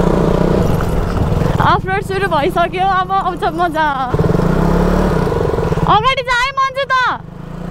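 A motorcycle ridden off-road by a short rider on a rough track near Pumdikot, Pokhara, its engine droning steadily close by while excited voices shout and talk over it.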